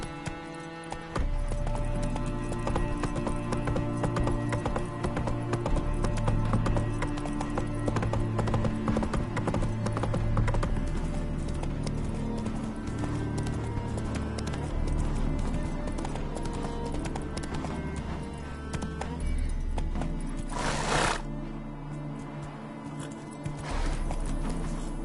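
Roach the horse gallops through The Witcher 3: Wild Hunt, hooves pounding in a continuous rapid rhythm under loud layered game music for the whole stretch, with a short brighter burst near the end.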